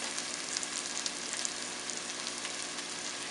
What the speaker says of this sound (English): I'm sauteing up my peppers and onions. And I'm just sauteing it in some coconut oil.